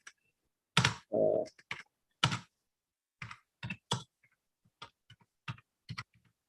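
Typing a Facebook post on a computer keyboard: sparse, close key clicks and heavier keystrokes tapped in an uneven rhythm, with brief silences between them.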